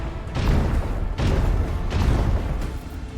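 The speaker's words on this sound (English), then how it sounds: "Macro cannons. Open fire." Macro cannons on a starship open fire in the video game Warhammer 40k: Rogue Trader, producing three heavy, evenly spaced booming blasts that each roll off into a rumbling decay.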